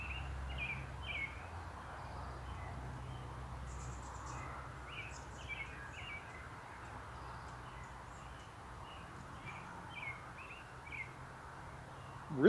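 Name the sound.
birds calling outdoors with highway noise behind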